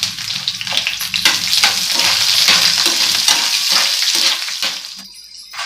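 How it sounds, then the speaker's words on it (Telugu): Dry red chillies fry in hot oil for amla pulihora, making a loud, close, continuous sizzle with crackling spikes that drops away abruptly just before the end. "ఇప్పుడు అవి బాగా వేపుకోవాలండి."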